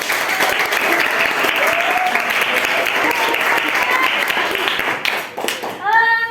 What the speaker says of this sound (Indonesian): Aplaus untuk kita semua dulu